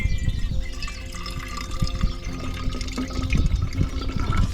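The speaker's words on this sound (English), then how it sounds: "pour more water in it. Just gonna give it a quick wash." Water poured into a small container for a quick wash of a coffee pot during a bikepacking trip in Andalucia, a continuous splashing and gurgling pour with drips, close by and with no talk.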